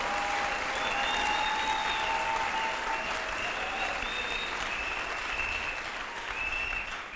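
Church congregation clapping steadily to acclaim the Lord, a dense continuous wash of applause filling the room, with faint voices and a sustained tone running underneath.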